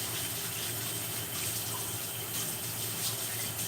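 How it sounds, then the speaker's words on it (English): Tap water runs steadily from a kitchen faucet as a utensil is washed underneath it while a chicken fajita casserole is being cooked, a constant close gushing with no talk. "I'm going to wash my utensil here."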